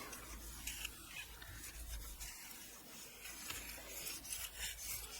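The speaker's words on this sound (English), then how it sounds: "so we can burnish that down" A folded paper page in a handmade folio journal is burnished flat with steady rubbing strokes, a soft, faint rasping scrape repeating close by with no voices.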